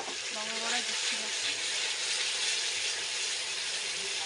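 Spice paste of ginger, onion, garlic, tomato and chili frying in a pan for a chicken dish, a loud continuous hissing sizzle throughout with a voice speaking briefly at the start.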